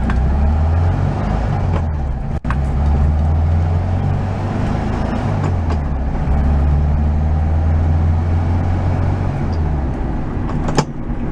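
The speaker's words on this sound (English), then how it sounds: "What do you say we go take it for a test drive and hopefully no issues." A VW Beetle on a test drive after a transmission swap, its engine droning steadily close up while the pitch climbs and drops as it shifts through the gears, with a brief clunk from the car partway through.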